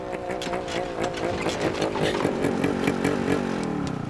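A poorly serviced motorcycle engine runs close by, revving in an uneven, pulsing rhythm that builds and then settles.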